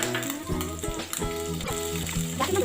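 Chilies sizzling in a hot pan of oil with curry leaves while upma is cooked; close, crackling frying with brief bursts of spattering, no voices.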